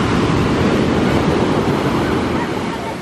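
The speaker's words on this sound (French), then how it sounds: "Et les vagues s'emballent." Waves crashing on a beach in Guadeloupe, a loud, dense and continuous roar of surf with wind buffeting the microphone, fading slightly at the end.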